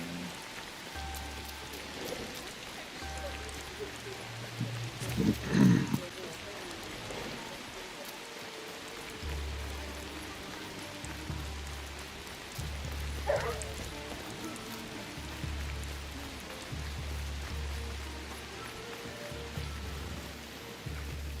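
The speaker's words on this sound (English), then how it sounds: "A wonderful spring rain." Spring rain in a video game falls as a steady wash of raindrops on surfaces, continuous and fairly soft throughout, with a low repeating tone beneath and brief vocal sounds at a couple of moments.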